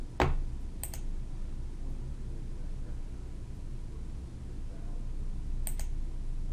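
A few sharp, close computer mouse clicks, one near the start and a quick pair later, over steady low background hiss while working in Power BI Desktop; no talking.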